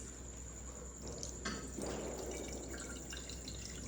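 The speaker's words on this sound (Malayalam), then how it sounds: "ഈ വെള്ളം നമ്മളിങ്ങനെ തുണിയിലൂടെ അരിച്ചെടുക്കുന്നു" While tender mango pickle is being made, water trickles and drips as it is strained through cloth, with a soft pouring burst in the middle against a quiet background hum.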